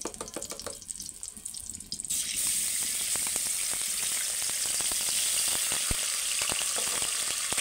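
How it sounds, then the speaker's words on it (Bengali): Ginger paste hitting hot oil in a pan, an abrupt jump into a loud, dense, steady sizzle after a couple of seconds of quieter scraping and clatter, continuing strongly to the end with no voices. "আমি আবারও তেল দিয়েছি, দিয়ে দেবো আদা বাটা"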